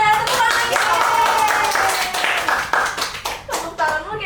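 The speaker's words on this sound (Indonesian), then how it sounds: "Ini dia, tepuk tangan ya." A small group claps hands at an office talk, a loud burst of clapping that thins into scattered claps, with voices calling out over it.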